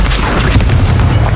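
Descendo spell slamming down in the game Hogwarts Legacy: one loud, heavy, low boom with a dense rumbling crash that fills the short moment.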